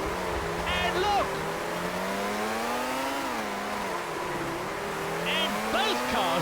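Formula One racing car engines from the PS2 game Formula One 2001 drone continuously at high pitch, sliding up and down with shifts as cars race, while commentary speaks over the engine noise.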